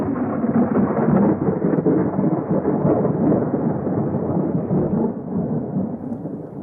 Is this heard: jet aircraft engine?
no